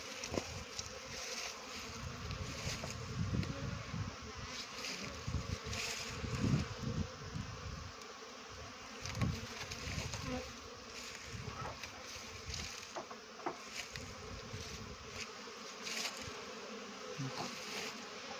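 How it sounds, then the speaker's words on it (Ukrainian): Honey bees hum in a dense, steady buzz during autumn orientation flights around the hives, with individual bees droning closer now and then over the constant swarm. "Ось такі у нас осінні обльоти бджіл."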